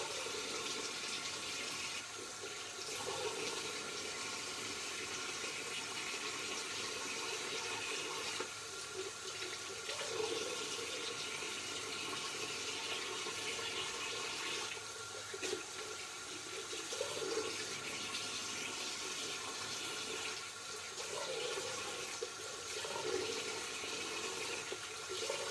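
Tap water runs steadily into a sink as a sponge is soaked and rinsed during facial skin care, a continuous soft splashing hiss with slight swells and no talk.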